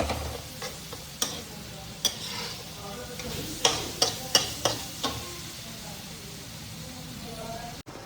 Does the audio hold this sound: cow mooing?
no